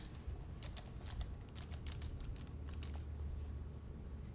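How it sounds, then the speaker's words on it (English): A curling iron clicks open and shut while styling thermal spiral curls, giving a close run of quick, irregular little snaps with no talking. "Click and turn and just guide that hair through."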